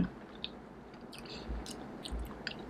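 Close, quiet chewing of a large marian plum (mayongchit) fruit, with soft wet bites and squishy crunches through a low background and no talking.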